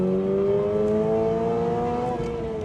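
A 2022 Toyota GR86 on a race track revs out steadily, its engine note a continuous, rising harmonic drone held loud and close for the whole stretch, with no voices over it.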